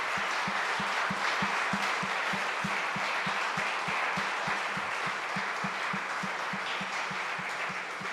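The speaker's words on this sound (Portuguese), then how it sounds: "Dê um aplauso ao Senhor" Church congregation applauding the Lord during a service, a sustained dense wash of clapping over a steady, evenly spaced low thumping beat, continuous for the whole stretch.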